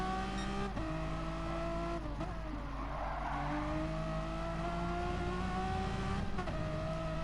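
Renault Mégane Trophy race cars in a racing game lap Brands Hatch Indy circuit, engines droning steadily with shifting pitch as several cars run close together, no talk over them.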